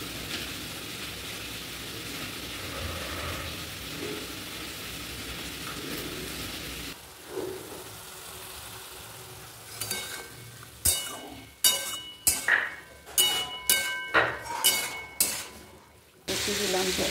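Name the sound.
elephant foot yam frying with spices in a pan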